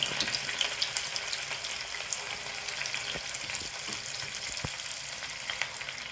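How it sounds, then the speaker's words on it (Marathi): Dahi vada lentil fritters deep-frying in hot oil over medium gas, a dense, continuous crackling sizzle heard close and steady throughout, with no talking. "एक एक वडा असा आपल्याला तेलात टाकून घ्यायचा आहे"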